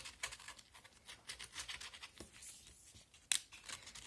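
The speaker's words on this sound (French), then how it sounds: "Je prends les ciseaux et je viens frotter ma lame pour un petit peu vieillir mon papier." A scissor blade is rubbed against paper to age it for a pop-up album. Soft, rapid scratching strokes come close and quiet in an uneven rhythm, with one sharper scrape near the end and no speech.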